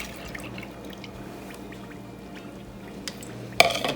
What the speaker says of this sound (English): add in my 2 cups of whole milk